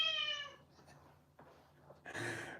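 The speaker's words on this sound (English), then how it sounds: "Here's cat noises." A smart speaker plays recorded cat meows: a clear drawn-out meow opening loudly, followed by quieter mews and a harsher yowl at the end, all fairly faint.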